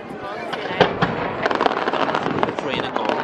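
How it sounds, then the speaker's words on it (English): Bonfire Night fireworks bursting in a rapid crackling volley, dense sparkling pops and bangs close and loud, with voices talking over them. "Look at the fireworks falling into the boat."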